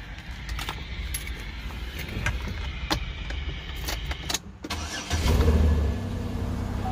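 A Shack Diesel car engine cranks briefly and catches, settling into a steady low idle after a few seconds of clicks and rattling.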